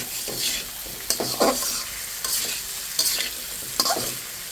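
Koi fish, spices and vegetables such as taro stolons sautéed in oil in a pan, a soft steady sizzle broken by several sharp stirring scrapes against the pan, close by.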